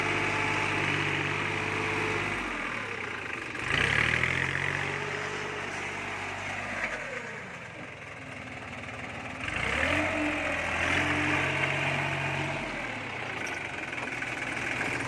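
A small three-cylinder diesel tractor engine of 21 horsepower idles with a steady low chug, its pitch dipping and rising twice as if throttled down and back up, heard alone.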